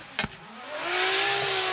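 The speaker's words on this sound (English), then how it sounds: "Car number 774 is Hokuto Matsuyama. Wow, nice flick and nice angle" A Formula Drift Japan race car drifting in 2024 competition: after a brief sharp knock, the engine note swells and holds as a loud, sustained rising howl close by.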